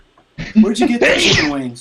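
One loud sneeze bursts out close by amid casual talk at home, with speech running over and around it.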